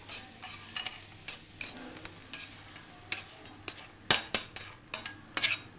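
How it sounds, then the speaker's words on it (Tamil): Cooked ivy gourd (kovakkai) frying in a pan, with a light sizzle under repeated bursts of stirring, the utensil clinking and scraping on the metal in quick irregular strokes, close and without speech. "கொஞ்சம் இதில் போட்டு ஃப்ரை பண்ணி எடுத்துடணும்"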